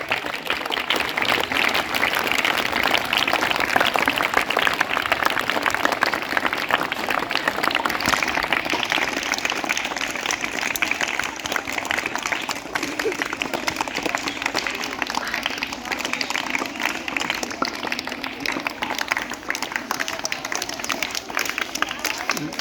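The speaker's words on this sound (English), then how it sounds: "Huge round of applause, students," Students clap together in a sustained, even round of applause at a school Diwali and Chhath Puja celebration, the crowd noise holding steady for over twenty seconds.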